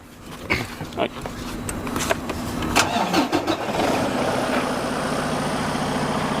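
A few clicks and cranking sputters, then a Detroit DD15 diesel truck engine catches and settles into a steady idle, close by, with brief talk near the start.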